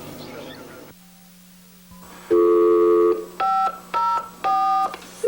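Telephone keypad tones for a phone call in Alaska: a steady dial tone, then a long touch-tone beep followed by three shorter dialing tones in a quick, evenly spaced series, loud and close with no talk.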